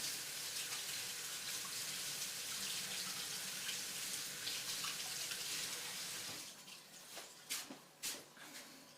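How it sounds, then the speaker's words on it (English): A hot water tap runs over a knife in a steady hiss for several seconds, then the flow stops and a few drips and clinks follow. "I'm going to take my knife and run it under some hot water"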